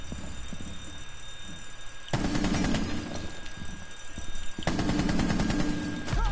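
Video game gunfire hammering at a character in two loud, dense bursts, each lasting about two seconds with rapid repeated shots, separated by a quieter stretch of background game sound.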